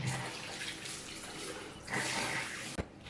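Tap water runs steadily into a sink while makeup is washed off, a continuous broadband hiss that swells louder near the end and is briefly broken by a soft knock.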